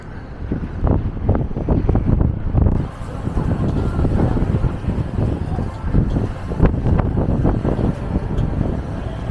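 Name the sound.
wind blowing on Blackpool Central Pier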